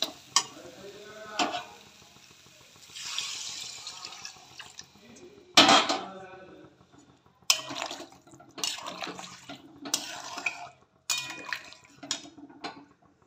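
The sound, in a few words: water added to potato curry (aloo dum) in pan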